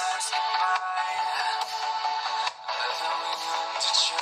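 A UMIDIGI A15T phone's single speaker plays a ringtone at full volume, a continuous thin, bright melody lasting several seconds with short dips, heard close with no talking.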